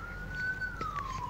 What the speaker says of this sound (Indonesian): Ini suara ambulans yang sedang membawa jenazah.